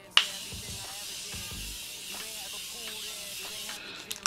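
Makeup setting spray sprayed from a bottle onto the face, a sustained broadband hiss lasting several seconds at moderate level, with a few faint clicks and a sharp start and end.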